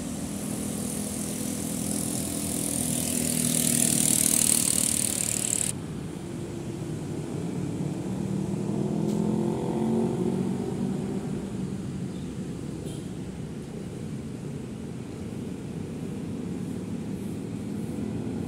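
A Murni Jaya intercity bus rolls past on a road toward Kalideres, its engine producing a loud, broad rumble that swells over the first few seconds, then settles into a steadier, softer drone as the bus moves off.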